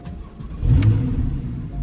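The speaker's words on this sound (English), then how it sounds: "Okay, so I'm gonna start the car here." A car set up for autocross with an AIM Solo2 DL logger and SmartyCam starts up partway through, its engine catching and swelling into a steady, close, moderately loud running rumble.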